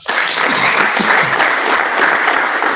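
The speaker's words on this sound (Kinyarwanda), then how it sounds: "Komera Imana amashyi." A church congregation bursts into loud, dense applause during a sermon, clapping steadily for a few seconds close at hand.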